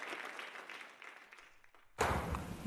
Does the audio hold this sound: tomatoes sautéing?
no